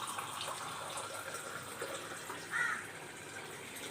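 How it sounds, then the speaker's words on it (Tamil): Water poured from a glass into a pressure cooker of chicken gravy, a faint continuous trickle heard close in a quiet kitchen with no talk. "தேவையான அளவு நம்ம 1 கிளாஸ் அளவு தண்ணி ஊற்றுறோம்."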